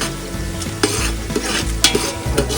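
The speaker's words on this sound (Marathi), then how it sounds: "कांदा घातलाय तेलात, त्यानंतर वरून कढीपत्ता घालायचा आणि कांदा छान लालसर होईपर्यंत आपल्याला तो परतवून घ्यायचा." Onion and curry leaves frying in hot oil, stirred with repeated scraping strokes over a loud steady sizzle, close up with no talking.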